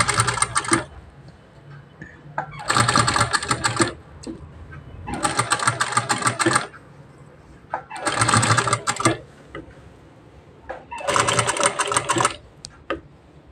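A sewing machine attaching diamond lace runs slowly in five separate bursts of rapid stitching, each a few seconds long, with quiet pauses between them.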